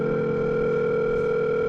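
A steady office telephone dial tone from a burger-restaurant video game, a continuous unbroken hum that holds at an even, fairly loud level before cutting off abruptly at the end, with no talking over it.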